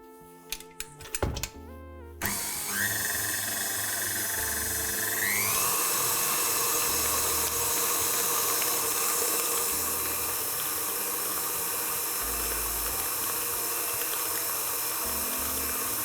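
Electric mixer beating butter ganache cream, a steady continuous motor whir that starts after a few clicks and runs loudly for the rest of the clip, with no voices.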